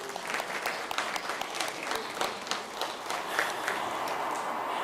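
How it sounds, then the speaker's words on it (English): A dinner audience at a university's Native community welcome event claps for a vice president, moderately loud, fairly steady applause of many hands with a few sharper individual claps standing out. "one more hand of applause for VP Nava"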